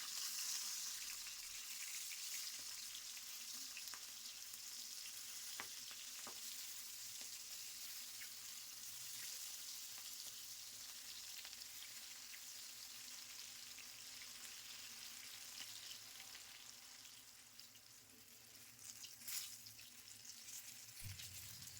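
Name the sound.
broad beans and eggplant frying and stirred in oil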